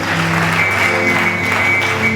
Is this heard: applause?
yes